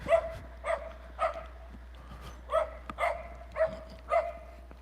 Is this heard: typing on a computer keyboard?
no